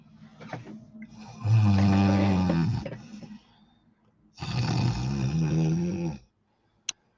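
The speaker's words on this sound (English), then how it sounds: "That's what he's doing. That's his snore." A man snoring loudly, two long rasping snores with a short gap between them and soft breathing before, heard close up with no talk.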